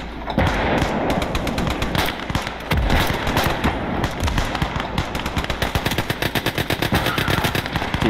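Machine gun fire in the World War II game Call to Arms Gates of Hell Ostfront: loud, rapid bursts of rattling shots in quick rhythm, nearly continuous, with heavier booms mixed in and no talk over it.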